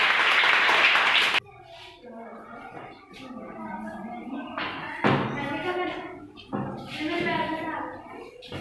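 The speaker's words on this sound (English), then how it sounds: "Now, dear students, clap for yourself" Students clap together in a dense burst of applause that stops abruptly after about a second, and then a voice speaks.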